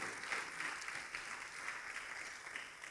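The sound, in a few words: congregation clapping hands in church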